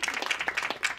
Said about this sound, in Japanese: 温かい拍手をありがとうございます